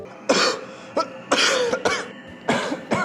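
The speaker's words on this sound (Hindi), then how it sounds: "कुछ नहीं, थोड़ी सी खांसी बस।" Five harsh, rasping coughs come one after another, close and loud, with brief pauses between them.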